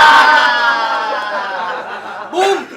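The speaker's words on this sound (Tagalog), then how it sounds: "Sumabog yung crowd" Rap battle crowd at a Filipino battle-rap event erupting in laughter and cheering, a dense wash of chuckles and chatter that holds loud then swells again near the end.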